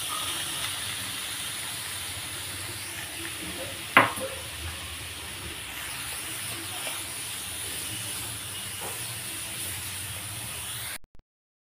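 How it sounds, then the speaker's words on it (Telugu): Grated carrot fries in ghee with a steady, even hiss, one sharp clink partway through, then the sizzle cuts off abruptly near the end. "ఈ క్యారెట్ తురుమును కూడా ఈ నెయ్యిలో వేసి కాసేపు వేయించుకోవాలి"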